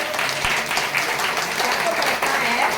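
A church congregation applauds steadily and loudly throughout, dense clapping filling the space with no break.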